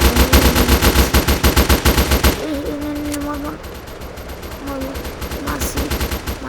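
Rapid automatic gunfire from a video game weapon fires in a steady loud burst, then gives way to scattered shots and a voice speaking over the game sounds.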